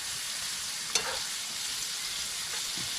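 Fat sizzles and fries in a pan at a campsite, a steady hiss throughout with a sharp clatter near the start and a couple of faint knocks later.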